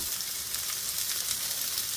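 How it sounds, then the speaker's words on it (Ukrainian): Steady sizzling hiss of onions frying in a hot pan, bright crackle constant throughout with no voices. "відправляємо її на пательню. Кладемо на розігріту сковорідку, пасируємо її"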